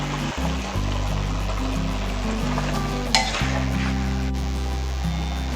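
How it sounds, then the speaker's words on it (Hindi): Chicken karahi simmers and sizzles over low heat while cream and malai are stirred in. A steady frying hiss runs under a low hum, with one brief clink partway through. "हम इसमें आंच स्लो करके ये क्रीम और मलाई जो है इसको डाल देंगे"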